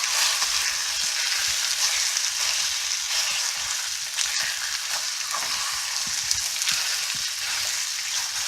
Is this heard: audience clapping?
no